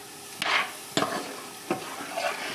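A spoon stirs cold butter into a thick maple glaze in a pan off the heat, making three or four soft scraping strokes with a faint residual sizzle between them.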